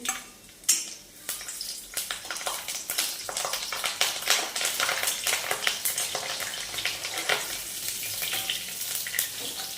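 Steady loud sizzling and crackling of green chillies frying in hot oil, with occasional pops and a few stirring scrapes, no voices.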